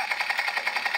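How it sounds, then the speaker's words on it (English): Toy robot's machine gun sound effect, a rapid mechanical rattling burst repeating steadily at close range with no voices. "That's a machine gun."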